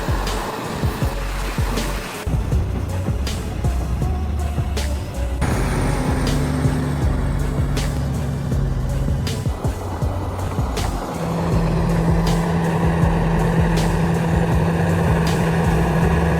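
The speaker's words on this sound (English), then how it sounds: "3 massive Caterpillar D9T bulldozers are reshaping the land" Three Caterpillar D9T bulldozers working at a mine, a steady loud diesel drone with shifting engine pitch, clanking tracks and metallic knocks, close and continuous throughout.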